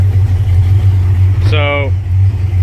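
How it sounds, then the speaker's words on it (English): A truck engine idles steadily with its power steering pump running, a loud continuous low drone throughout, briefly joined by a short rising whine partway through. "the truck is running right now, and the power steering pump is on"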